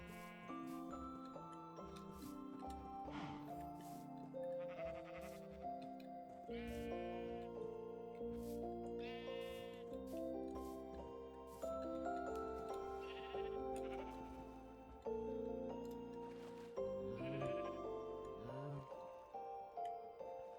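Sheep bleat repeatedly in Minecraft, several wavering game bleats spread across a backdrop of soft game music and occasional clicks, with no talking.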